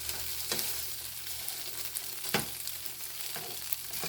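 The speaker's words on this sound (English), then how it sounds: "cook it for about 5 to 7 minutes till it starts taking on a little golden brown" Crumbled tofu scramble fries in a pan with a steady, soft hiss and sizzle, broken by a few sharp scrapes and stirs of a utensil against the pan.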